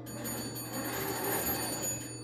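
An old telephone bell rings at a telephone museum, a faint, weak, continuous jangle that sits low in the mix against a steady background hum.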